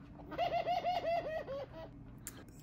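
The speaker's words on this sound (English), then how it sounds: "There's the bird." A pigeon or dove gives a run of about seven soft, rhythmic coos in quick succession, fairly close and clear over a quiet indoor background, then falls silent.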